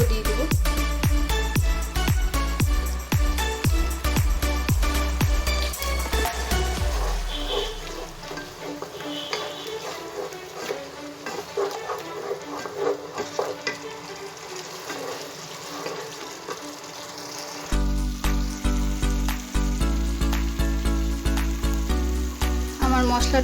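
Vegetarian masala paste with cashew-ginger paste, melon seed paste and chili powder sizzling and frying in a pan, a steady crackle and hiss with stirring, fading midway then returning loud, over background music.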